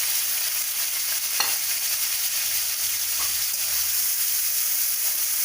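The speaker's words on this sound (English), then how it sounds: "here add the tomatoes, green chili and then curry leaves and then coriander leaves" Tomatoes, green chili and curry leaves frying in a pan with jeera for a Sindhi dal dish, giving a steady, continuous sizzle with occasional stirring scrapes, close and alone with no talk.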